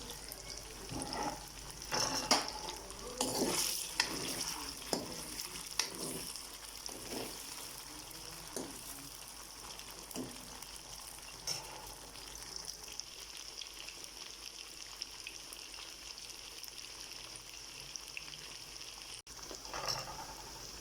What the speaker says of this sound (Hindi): और अरवी को भी हमने फ्राई करना है।